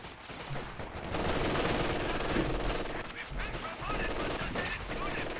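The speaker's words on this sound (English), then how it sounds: "In comes another anti-infantry strafe, and that pins all of these troops." Sustained video game gunfire from an anti-infantry strafe in a WWII-era battle, with dense, overlapping bursts of machine gun fire that stay loud and continuous.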